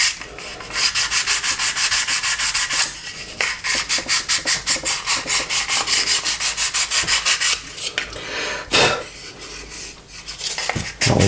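Close, rhythmic rasping strokes of sandpaper thinning the trailing edge of an Airfix Handley Page Hampden plastic model aircraft, fast regular back-and-forth scrubbing in bursts with short pauses, no talk.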